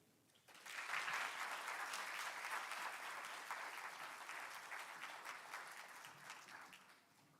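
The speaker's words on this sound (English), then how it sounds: "let's have a big round of applause for all of our presenters" An audience at a Miami University pitch event applauds its presenters, a broad, even round of clapping that starts suddenly, sustains for several seconds at a distance and slowly fades.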